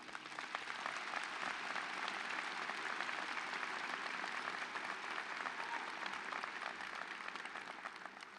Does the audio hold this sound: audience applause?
yes